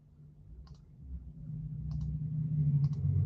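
Three faint, evenly spaced computer mouse left clicks, each a tiny crisp tick over a low steady hum, close but quiet and alone.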